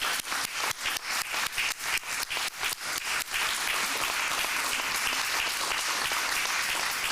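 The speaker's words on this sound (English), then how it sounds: "I think we can applaud ourselves" Audience applause closing a mental health webinar, many hands clapping in a dense, steady burst that runs loud and unbroken from start to finish.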